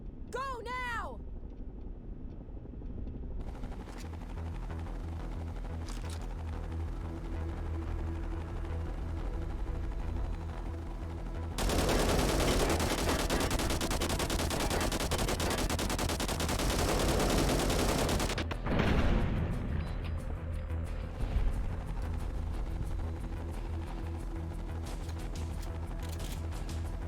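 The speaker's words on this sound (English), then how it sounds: "Use the machine gun and turrets in the back!" Sustained machine gun and turret fire in the video game Fallout: The Frontier, a dense, loud burst of gunfire lasting several seconds over a steady engine drone, with character speech elsewhere.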